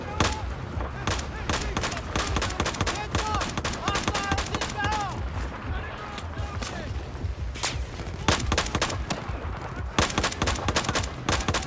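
Battlefield 4 gunfire, a dense battlefield of repeated rifle and machine-gun shots with distant booms, steady and fairly loud throughout, with speech-like sounds picked up in the background.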